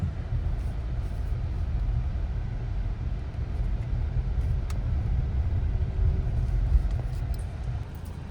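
An automatic car in manual mode creeps along slowly in first gear, giving a steady low engine and road rumble from inside the cabin, with no voices.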